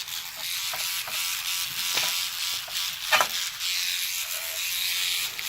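A toothbrush wet with rubbing alcohol scrubs NES connectors, giving close rapid scratchy bristle strokes with scattered clicks and taps, no talk.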